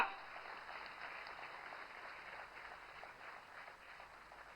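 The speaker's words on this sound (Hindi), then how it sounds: "बाकी सब भी तालियां बजाएं" Audience applause at a regional industry conclave in Gwalior, a steady, moderately distant wash of clapping that holds evenly throughout and eases slightly toward the end.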